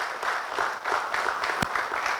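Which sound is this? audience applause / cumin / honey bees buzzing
audience applause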